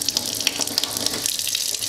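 Water runs from a kitchen tap during a dishwasher installation, a steady close splashing stream under light clattering, with no talk.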